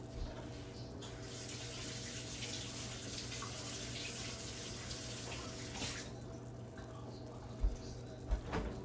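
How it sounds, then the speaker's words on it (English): Tap water runs steadily over a plate being rinsed in a kitchen sink while canning jelly and fig butter, a continuous hiss with a couple of faint clinks near the end. "Let's rinse this plate off."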